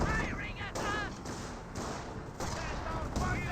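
Gunfire crackles through a Company of Heroes 1 World War II battle as Panzer Grenadiers advance, with dense overlapping shots and bursts filling the mix while a commentator talks over it.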